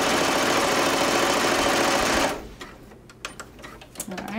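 A sewing machine stitches a zipper using a zipper foot, a loud, steady, rapid mechanical hum for about two seconds that then stops abruptly, leaving faint clicks and handling noises.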